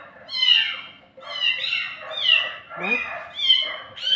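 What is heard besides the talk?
kitten meowing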